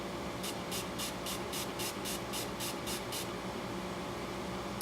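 A spray bottle of 70% alcohol fires about ten quick, evenly spaced misting pumps onto a makeup eyeshadow palette at close range over a faint background hum.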